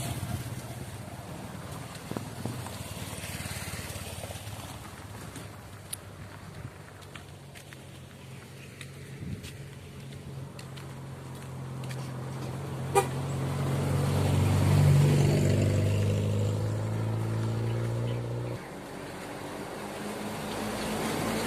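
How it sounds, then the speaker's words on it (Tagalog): Many vehicles pass along a road in the Philippines, with rumbling engines swelling and fading, a short horn toot, and a loud nearby pass building toward the end, heard outdoors with no talking. "ayan, dami sasakyan guys na dumadaan na dito."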